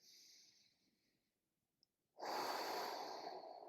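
Breathing during a lumbar extension spine stretch: a soft exhale fades out, then after a short pause a strong, loud inhalation or breath rush fills the rest, alone and close.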